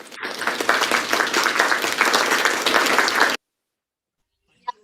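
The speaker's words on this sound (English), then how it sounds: "एक बार क्लैपिंग करना चाहिए, जबरदस्त" Dense clapping from a startup webinar audience runs steadily for about three seconds, then cuts off abruptly to silence, with a faint click afterward.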